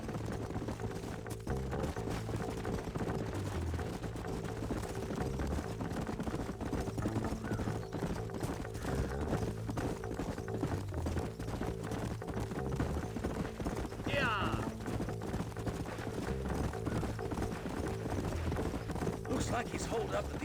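Horses walk through the open country of Red Dead Redemption on PS5, their hooves clip-clopping in a steady, continuous rhythm. The hoofbeats sound close and carry on under ambient game sound and music for the whole stretch.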